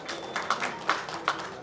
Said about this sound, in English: A round of applause for Sri Krishnamurthy.